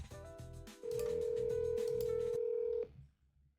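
A phone line rings out on an outgoing call, a single long steady tone of about two seconds rising clearly over faint background noise, with some clicks before it and a quiet room after.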